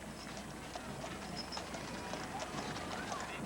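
Horses' hooves clip-clop faintly in a quick irregular patter under a noisy crowd at an outdoor Christmas parade in Columbus, Ohio, distant and soft.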